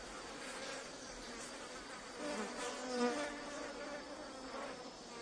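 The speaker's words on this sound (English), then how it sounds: "The bees seemed to find some reward on the stigmas, for they crawled all over them" Soft buzzing of bees hovering around a titan arum flower, a quiet continuous drone with wingbeats rising and fading as they move about.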